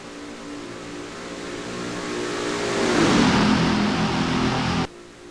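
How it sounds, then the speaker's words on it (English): Race cars roar off the green flag at the start of the Can-Am Duel at Daytona, their engines swelling into a loud, dense accelerating drone that peaks and then cuts out abruptly. "Green flag is out, and we are racing in Can-Am Duel number 1."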